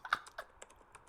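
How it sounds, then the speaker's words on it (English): Quick, light keystrokes tapping on a computer keyboard, a rapid irregular burst of clicks heard close by. "What is he typing?"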